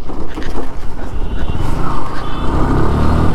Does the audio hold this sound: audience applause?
no